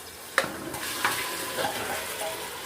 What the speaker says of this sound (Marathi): मटण हळद लावून घेतलेलं आहे, तर ते इथे मिक्स करून घ्यायचं आहे छान असं